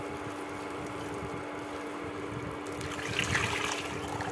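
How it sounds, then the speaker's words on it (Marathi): Two glasses of water poured into a yogurt and gram-flour mixture for kadhi, a soft liquid trickle and splash that swells louder toward the end, quiet and without speech. "तर मी यात 2 ग्लास पाणी टाकणार"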